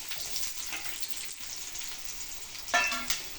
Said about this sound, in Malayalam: ആ ഉള്ളിയും കറിവേപ്പിലയും കൂടി ഞങ്ങൾ മൂപ്പിക്കുക കേട്ടോ.